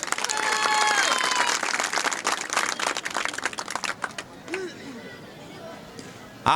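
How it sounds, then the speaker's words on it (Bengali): Outdoor crowd at a cricket tournament ground applauds loudly for a local figure, the clapping fading after a few seconds into quieter background chatter. "খোকন ভাইয়ের জন্য একটা বড় করে হাততালি"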